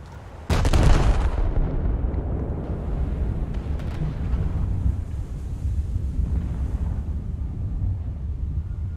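Battleship triple-gun turret salvo in a naval combat video game, a single loud booming blast followed by a long rumbling roar that fades slowly.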